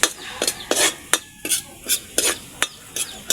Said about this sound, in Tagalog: Pigaan yung ating santol, magigisa na tayo.